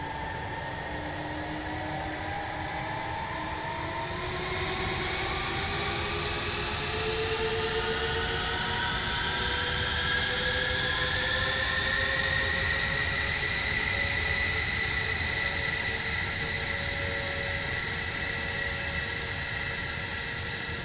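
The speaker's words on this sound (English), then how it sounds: "And the engines spring to life, and you'll get some nice sound effects as well." Jet engines of a B-2 Spirit stealth bomber spooling up in Microsoft Flight Simulator, a steady hissing whine with rising and sliding tones that grows slightly louder and stays continuous for the whole stretch, with no talk.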